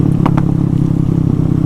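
Honda MSX fitted with a swapped Zongshen 212cc engine idling with a steady throb, sharp pops and crackles bursting out near the start, close and loud.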